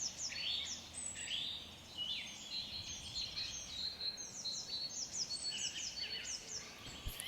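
Birds sing in a forest, with faint high chirps and trilling calls repeating over a quiet airy background.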